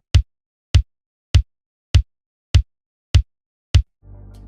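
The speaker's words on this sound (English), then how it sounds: "So the kick drum is a sample from the R8 that sounds like" Seven short, dry kick drum hits sampled from a Roland R8 drum machine fall at a steady even pulse with silence between them, and a brief low hum follows at the end.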